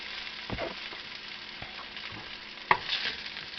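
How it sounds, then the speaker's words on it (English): Pork chops frying in a pan give a steady broadband sizzle with a few sharp spits and pops, one louder crackle near the end, close and alone with no talk. "now I'm going to put in these pork chops as well"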